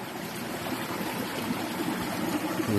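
Stream water pours and splashes at a forest waterfall, a steady broadband rush with bubbling texture, close and constant throughout.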